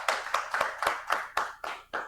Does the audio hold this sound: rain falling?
no